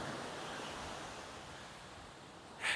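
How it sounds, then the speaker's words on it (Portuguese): Strong wind and ocean waves at the shore form a steady, loud wash of surf and gusting noise, with a brighter burst of spray near the end. "está ventando muito por aqui. Tem várias ondas"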